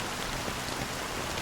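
Steady, dense rain falls in a Honkai Star Rail cutscene, an even broadband patter on surfaces that stays constant and fairly loud throughout with no voices.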